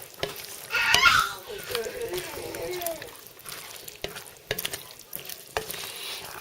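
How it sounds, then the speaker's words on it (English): Eggplant chunks are stirred into curry sauce in a pot with scraping clicks and soft wet sizzling, under intermittent talking nearby. "Now I have added the eggplants into the pot, and now just mix them all up together."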